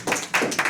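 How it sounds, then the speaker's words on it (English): Classroom students applauding at the start of a lecture, a brief burst of scattered hand claps, fairly faint and short. "Give yourselves a round of applause."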